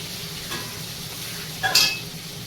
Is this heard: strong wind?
no